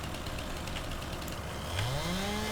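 Chainsaw cutting down trees in a farming video game, a steady buzzing engine drone that then revs up with a rising pitch near the end, moderately quiet and heard alone.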